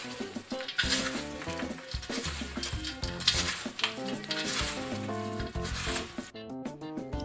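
Dried grapes, almonds and sugar for panjiri being stirred in a pan, a steady scraping and rustling that repeats through the clip while music plays underneath.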